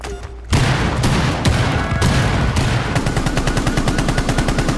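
Dense, loud automatic gunfire in the video game Rainbow Six Siege, rapid bursts starting abruptly and then settling into a fast, even rattle of shots.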